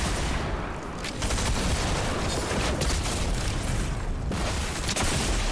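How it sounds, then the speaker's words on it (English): Gunfire in the video game Fortnite, including an overpowered shotgun, bursts out in dense loud blasts that nearly fill the whole stretch, with two brief lulls between volleys. "that shotgun's a little overpowered"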